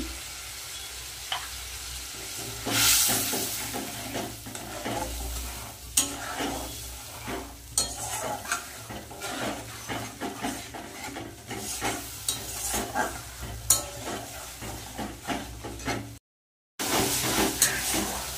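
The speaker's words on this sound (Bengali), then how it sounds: "মশলা কিন্তু ভালো করে কষিয়ে নিয়েছি" Spice paste with turmeric and salt frying and being stirred in a pan: steady close sizzle with repeated scraping stirs, continuous for the whole stretch apart from a brief gap near the end.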